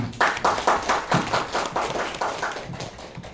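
An audience at a positive-culture dissemination session claps, a run of fairly regular, evenly spaced claps that gradually fade without any voices.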